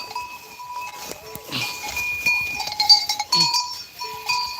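A goat bleats at close range several times, with shuffling, scuffing movement and a few knocks around it on a farm. No one speaks.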